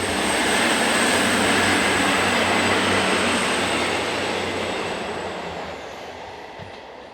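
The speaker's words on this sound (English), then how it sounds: "diesel unit number 4143 heads north off the non-electrified route from Oudenaarde" Diesel unit 4143 rolls north on a non-electrified line from Oudenaarde, a loud, steady rumble and wheel roar close by that slowly fades toward the end.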